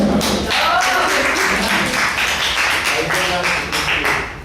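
A class audience applauds on request during a lecture, a busy, fairly loud spatter of many hands clapping that carries on for several seconds and thins slightly toward the end, with a voice faintly underneath.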